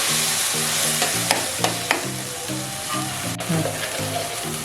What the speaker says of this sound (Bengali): এবার আমি মশলাটাকে একটু মিশিয়ে নেব ভালো করে।